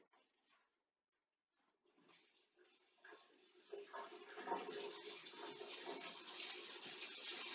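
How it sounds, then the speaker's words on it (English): Warm water is poured steadily into a pot while cooking elk stew, a soft rushing splash that starts faint after a short silence and grows fuller and louder to the end. "Warm water."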